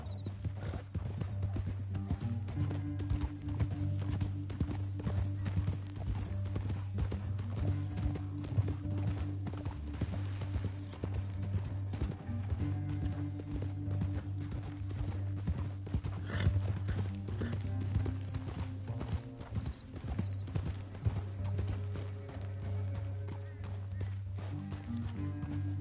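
Steady clip-clop of horse hooves riding along in a Western video game, rhythmic and continuous throughout under a constant low musical drone, with an occasional whinny.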